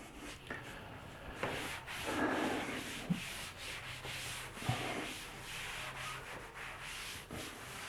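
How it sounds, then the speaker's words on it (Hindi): Something is rubbed back and forth against a surface in a series of soft, uneven scraping strokes, fairly faint and close, with no talking. "इसको यहां से मैं रब करने की कोशिश करता हूं।"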